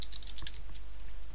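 Keystrokes on a computer keyboard entering a username at a Windows 7 login, a quick run of light, close clicks over a steady background hum, no voices.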